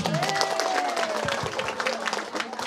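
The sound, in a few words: applause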